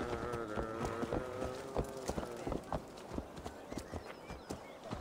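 A horse in Assassin's Creed Valhalla thuds along in quick, uneven hoofbeats, loud and close, with a snort and some background game sound.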